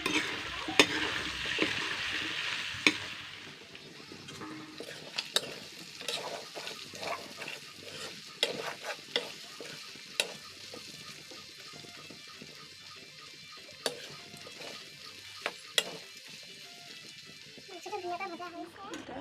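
Chicken frying in a pan with ginger and garlic is stirred, a quiet steady sizzle with scattered scraping and clicking strokes, while voices murmur in the background.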